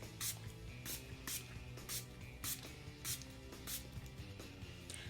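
Drugstore makeup setting spray misted in a string of short, even bursts, each a soft airy hiss, repeated about nine times in steady rhythm over a low background hum.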